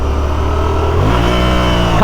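A dirt bike's engine revs hard, its note climbing steadily in pitch as the rider blips the clutch, loud and close throughout.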